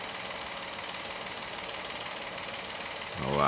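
Peugeot three-cylinder engine idling with a slight misfire and noticeable shake, a steady mechanical hum with a faint uneven pulse, rising suddenly louder near the end.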